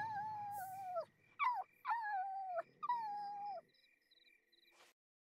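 A dog in The Sims 4 game makes a series of drawn-out whining, howling vocalizations, several long wavering calls separated by short pauses, with no one talking.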